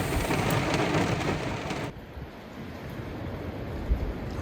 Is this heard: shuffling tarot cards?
no